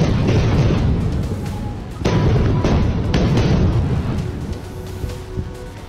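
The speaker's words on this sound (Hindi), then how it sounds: "इजराइल ने यहां एक एक कर कई इमारतों पर बम बरसाए" Bombs strike buildings in Gaza, loud booming blasts with sharp onsets, one after another, followed by heavy rumbling debris and crackle, no voices heard.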